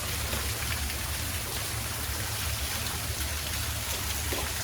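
Water splashes and trickles steadily from a garden fountain at Daniel Stowe Botanical Garden in Belmont, North Carolina, a constant close burbling rush like spilling into a basin.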